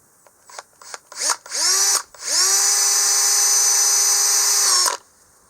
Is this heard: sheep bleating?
no